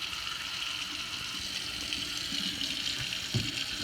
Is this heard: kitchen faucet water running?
yes